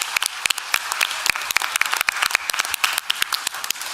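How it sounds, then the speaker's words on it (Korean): Audience at a church academic association founding service and parents' rally applauding, dense steady clapping from a crowd, close and fairly loud with no voices over it. "네, 박수 쳐야 됩니다."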